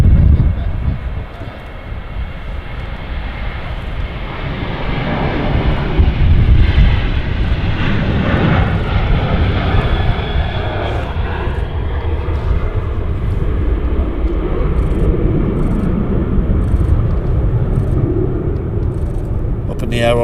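Ryanair Boeing 737 climbing out from Manchester Airport, a broad, steady jet roar filling the whole clip with low rumble, with people talking over it.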